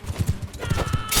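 Cavalry horse hooves in the medieval combat game Mount and Blade: Bannerlord, a quick rhythmic clip-clop of several strides close by, with a brief whinny-like burst near the end amid battle noise.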